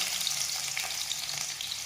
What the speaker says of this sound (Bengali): কড়াইয়ের মধ্যে তেল গরম করে পেঁয়াজ দিয়ে